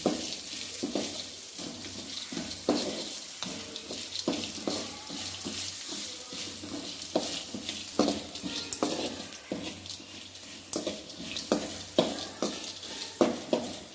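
Steady stirring and scraping of lentils sautéing in a pan with a soft sizzle underneath, repeated clinks of a spoon against metal throughout, close and fairly quiet.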